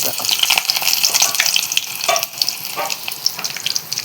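Drumstick pieces sautéing in hot oil in a pan for vegetable sambar, with a steady loud sizzle and crackle and occasional stirring scrapes, close up with no talking.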